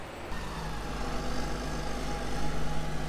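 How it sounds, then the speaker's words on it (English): A stacking tractor at maize harvest, its engine running with a steady, continuous low rumble throughout, fairly close. "The other stack tractor's turned up."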